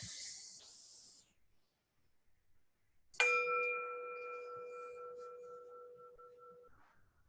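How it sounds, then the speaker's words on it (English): After a soft hiss and a pause, a single mindfulness bell is struck once and rings clearly, its pure tone slowly fading over several seconds. "So with that, let's invite the bell."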